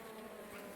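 Honey bees buzz inside a hive during a winter inspection, a close, faint, steady hum with no talking.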